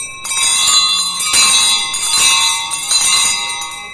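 Bells of Klaipėda ring loudly and brightly, overlapping strokes with a sustained metallic shimmer and rich hum tones sounding close and continuous with no voices.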